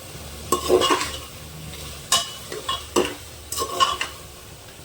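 Egg and potato curry being stirred and fried in a pan, with scraping spoon strokes and a steady sizzle over several seconds, close and moderately loud, no voices.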